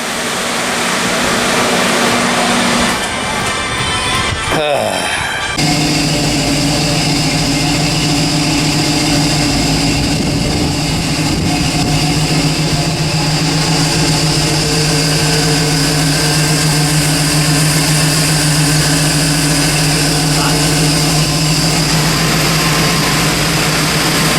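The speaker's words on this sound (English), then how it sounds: "that's probably the fan clutch, my brand new fan clutch that's making that noise" New fan clutch on an AMC 304 V8 in a 1979 AMC AMX running on a dyno, a loud continuous roaring whir over a steady engine drone, with a brief rattling disturbance early on, close and sustained with no talking.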